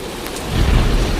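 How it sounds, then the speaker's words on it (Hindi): Heavy rain pours steadily in a cartoon thunderstorm, with a deep thunder rumble swelling underneath partway through; a short, loud burst of sound effects with no talking. "हे भगवान, यह तो बहुत जोर की बारिश आ गई।"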